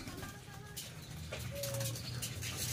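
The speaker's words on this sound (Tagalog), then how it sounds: "Aligo tayo ngayon ng ibon." Pet pigeons cooing softly at close range, low murmuring coos mixed with faint bird calls and light background noise.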